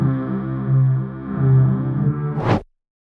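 A mystery monster sound from the My Singing Monsters game played in reverse: a sustained, distorted tonal drone with layered harmonics that swells twice, then rises sharply and cuts off abruptly into silence.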